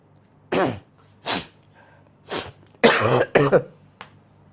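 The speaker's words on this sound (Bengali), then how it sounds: "কি কাশি হইল বুঝলা" A man coughs in a run of about six harsh bursts, close and clear, spread over a few seconds with short gaps between them.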